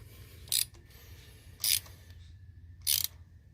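A ratchet torques spark plugs into the aluminum heads of a 2009 Toyota Matrix XRS 2.4, giving three short, crisp bursts of clicking spaced about a second apart over a quiet background.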